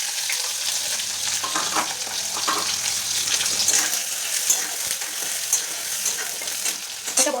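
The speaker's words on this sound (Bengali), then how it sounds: "এবার আলুটাকে সুন্দর করে ভেজে নেবো, লাল লাল করে।" Potatoes and onions fry in a pan with a steady, close sizzle and crackle running the whole time, joined by faint stirring scrapes, with no voices.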